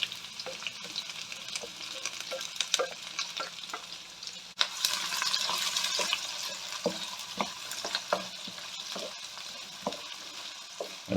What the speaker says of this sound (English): I've got 2 medium brown onions that I've just sort of roughly chopped up. I'm going to fry them.